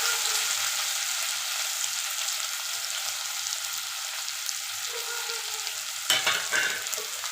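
Onions sauté in a pan with spluttering mustard seeds for a dry fish thokku of nethili karuvaadu, giving a continuous close sizzle with soft stirring, then a sharp clatter of the spoon near the end.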